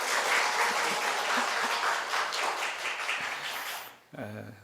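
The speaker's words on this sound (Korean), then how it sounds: "박수 한번 해주세요." Church congregation applauding together during a Sunday afternoon service, a dense, steady wash of many hands clapping for about four seconds before fading out, with a voice speaking briefly afterward.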